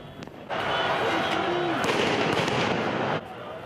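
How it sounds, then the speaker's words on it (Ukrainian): A rapid, crackling barrage of firecrackers set off by football fans explodes for a few seconds outdoors in a city street during the Euro 2016 final, dense popping bangs that stop abruptly. "Фанати висаджували петарди, кидали фаєри"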